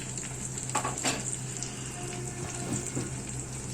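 Prawns frying in hot oil for a cucumber, tomato and prawn curry give a steady, close sizzle with a few brief crackling spikes, and no one speaks.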